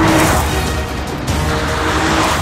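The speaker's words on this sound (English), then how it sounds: "I can hear the engine really going" A Lexus GS F Sport's engine roars continuously at high revs, with wind and road rush around it and no voices.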